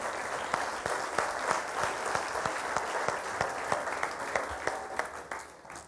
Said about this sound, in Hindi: आप सबकी बहुत सारी तालियां